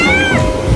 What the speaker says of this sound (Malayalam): നമ്മുടെ പൂച്ച ഇവിടെ എത്തിയിട്ടുണ്ട്